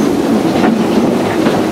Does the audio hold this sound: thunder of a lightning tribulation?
no